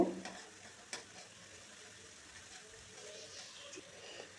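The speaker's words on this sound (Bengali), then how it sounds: "ওই আদা পেস্টটা কড়াতে দিয়ে দিচ্ছি আদাটা একটু নেড়ে ছেড়ে ভেজে নেব" Ginger paste frying in a wok while being stirred gives a soft, low sizzle with light scraping, faint and steady after a sharper clink at the start.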